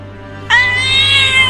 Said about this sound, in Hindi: अरे ये बिल्ली तो पिंजरे में से निकलने की कोशिश कर रही है